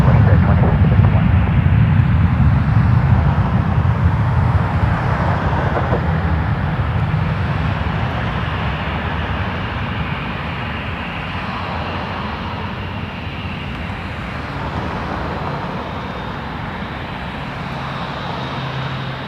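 Jet airliner noise at Toronto Pearson Airport, a loud steady engine roar and rumble that slowly fades over the whole stretch, with faint radio voices beneath.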